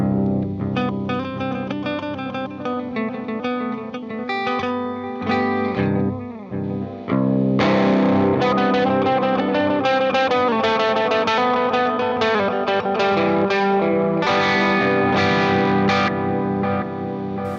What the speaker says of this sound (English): But this is essentially my straight up delay